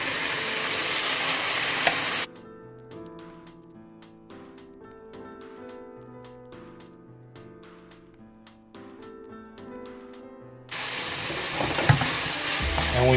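Broccoli tossed into a hot pan with sausage sizzles loudly for about two seconds and again near the end, with a quieter stretch of low tonal sound in between.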